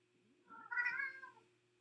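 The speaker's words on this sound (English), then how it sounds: "Can you hear my cat yelling?" A pet cat lets out a single drawn-out yelling meow, fairly faint and heard alone against a quiet room with a low steady hum.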